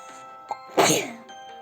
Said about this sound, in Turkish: Mevsimler geçtikçe ben bazen hapşırmaya başlıyorum.